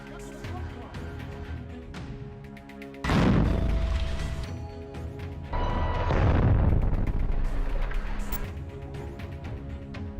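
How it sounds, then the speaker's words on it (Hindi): Deep booming blasts erupt twice amid rumbling as a rocket launcher hits a Merkava tank, with a voice speaking over the sustained roar of the explosion. "उस टैंक पर एक रॉकेट लॉन्चर पर हमला कर देते हैं, जिससे जोरदार धमाका होता है"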